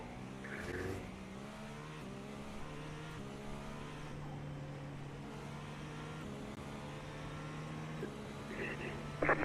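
Race cars at Sebring in iRacing drive with a sustained engine note that rises and shifts through gears, some tire squeal, heard steadily at moderate level from the driver's car.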